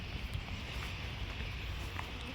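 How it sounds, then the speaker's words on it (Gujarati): Cold wind blows by a river where buffalo are grazing, a steady low rushing roar buffeting the microphone without a break, close and fairly soft. "અત્યારે છે ને ઠંડો પવન બહુ નીકળ્યો છે."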